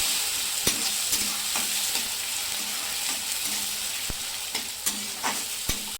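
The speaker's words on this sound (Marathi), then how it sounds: "आता हे बारीक चिरलेला टोमॅटो आता हे घालते मी। आता ह्याला पण असंच परतून घेते।" Finely chopped tomatoes added to golden fried onions and sautéed in a pan for egg bhurji, with a steady close sizzle and repeated spatula scrapes and taps against the pan in an irregular rhythm.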